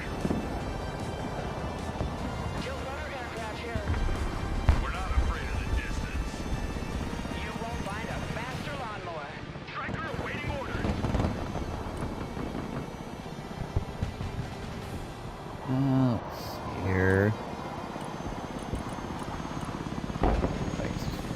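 An Osprey tiltrotor aircraft in the military strategy game Broken Arrow gives a continuous rotor drone and thrum, with other battle noises, under frequent voice chat from players.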